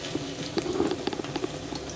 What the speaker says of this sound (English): this is now boiling